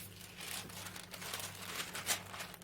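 Newspaper crinkling and crumpling in steady rustling bursts, close by, with a sharper crackle near the end.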